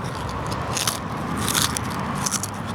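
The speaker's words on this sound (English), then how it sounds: "where's the crunch factor on that chip?" A chip is crunched while being eaten: close, loud, crackling bites in a few bursts over steady noise, with no talking.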